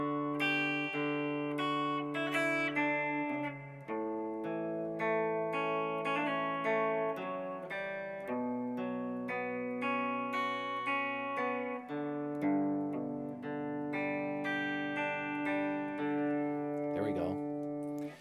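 A guitar plays a sustained picked line from a song, held chord notes ringing together with some effects, steady and clear, alone without talk.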